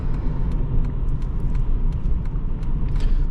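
A 2004 Lexus LS430 engine pulls hard under steady acceleration from 0 to 60, a continuous loud low rumble with road and wind noise, heard from inside the car with no talk.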